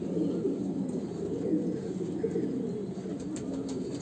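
Domestic Andhra pigeons coo in a low, throaty, continuous murmur at a home loft, several birds overlapping steadily and close by, with no talking.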